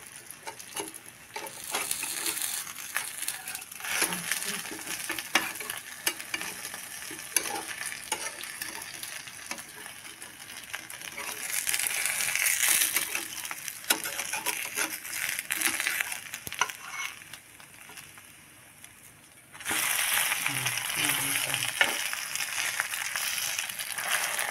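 Patrode frying in ghee on a pan sizzles close by with a steady crackle, scraping and stirring of a utensil, rising to a louder hiss near the end.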